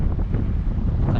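Strong wind buffets a boat at sea near Guntao Island, Palawan, a steady loud roar of rushing air and microphone rumble with no voices.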